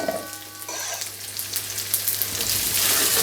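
Gnocchi and vegetables fry in a pan, giving a steady close sizzle with crackling bursts that builds slightly over a few seconds, with no talk.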